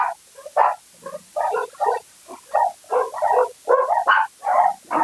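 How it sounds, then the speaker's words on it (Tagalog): A dog barks repeatedly nearby, a run of loud, separated yelps and woofs coming in an uneven rhythm, with no talking over them. "Nag-ingay yung aso ko."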